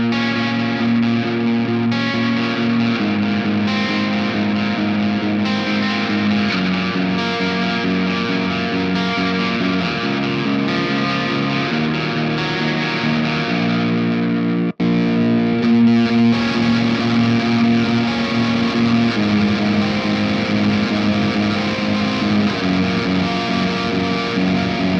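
Electric guitar plays distorted chords and riffs through a Holy Island Audio Tides dirty reverb pedal into the amp, gritty and washy, loud and sustained, with a brief cut midway.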